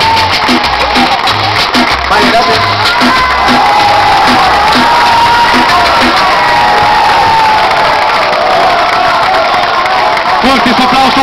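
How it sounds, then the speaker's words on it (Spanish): An audience at a live music performance cheers, whoops and applauds loudly for several seconds, a dense continuous crowd roar with shouting voices mixed in. "Fuerte ese aplauso"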